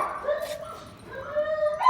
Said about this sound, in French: on repasse devant les chiens, donc ça va gueuler